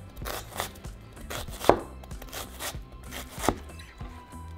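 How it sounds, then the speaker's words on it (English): Onion chopped with a knife on a cutting board for burrito filling, a steady rhythm of close, crisp thuds with two sharper knocks standing out, and no talking. "So now we're chopping our onion."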